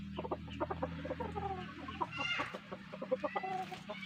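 Gamefowl chickens cluck and murmur in a breeding pen, with a steady run of close, rhythmic clucks and a few higher calls overlapping.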